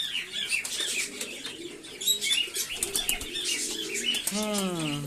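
Pigeons flutter and coo while being fed at night indoors, with several bursts of wing flapping and overlapping chirps and coos close by, all fairly loud and busy throughout.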